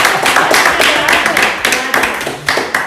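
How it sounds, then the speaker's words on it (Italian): Close, uneven clapping from a small group in a rural potato-farming community, loud individual hand claps in irregular bursts, with some voices mixed in. "Facciamo un applauso alla linea."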